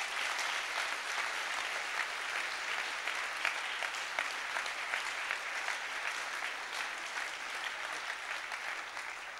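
Steady applause from a school speech-day audience fills the hall at a moderate level, a dense even patter of many hands clapping without pause or voices.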